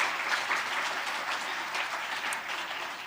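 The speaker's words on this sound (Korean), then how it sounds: "유스 앙상블 팀들 위해서 박수를 한번 더 격려하겠습니다." A church congregation at a Sunday worship service applauds a youth ensemble, steady, even clapping from a large room that holds for about three seconds at moderate distance, without speech.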